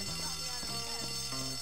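An alarm in the video game Bully sounds in short repeated tonal bursts at moderate loudness, with a voice speaking over part of it.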